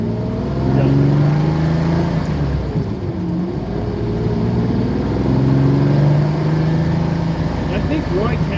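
Lamborghini Countach engine running steadily while the car is driven, a loud continuous drone that swells and eases with throttle, with faint talk underneath.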